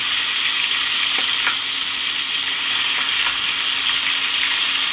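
Pointed gourd pieces sizzle steadily in oil in a pan after the lid comes off, with a few soft clicks as the pieces are flipped over; close and continuous, with no talking.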